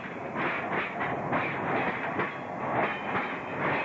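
Ontario Northland Railway freight train rolling through a yard in winter, with steady wheel rumble and repeated clickety-clack of cars passing over rail joints, moderately distant and continuous.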